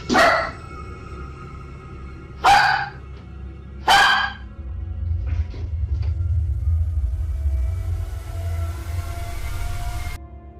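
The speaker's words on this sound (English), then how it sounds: "Her dog picked up on the danger and began barking wildly, louder and more fiercely than usual." A dog barks wildly and fiercely in a few loud, separated bursts early on, then a low steady rumble and faint creaks fill the rest of the scene.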